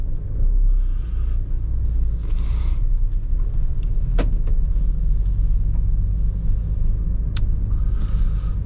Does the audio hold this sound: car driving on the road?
yes